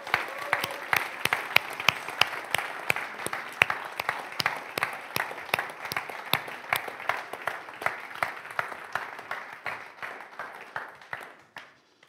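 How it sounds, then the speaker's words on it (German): Big sustained applause for guests walking onto stage at a church community talk, dense rhythmic clapping from an audience lasting over ten seconds and gradually dying away. "Komm, wir geben ihnen einen grossen Applaus,"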